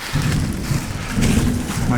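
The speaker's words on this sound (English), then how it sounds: "Oh, the thunder!" Low rumbling thunder rolls through a rainstorm, a broad sustained roar that swells again near the end, steady and moderately loud with rain noise throughout.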